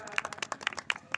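An audience at a Hindi poetry gathering (kavi sammelan) gives brief, scattered, fairly faint hand claps in an irregular rhythm, lasting about a second.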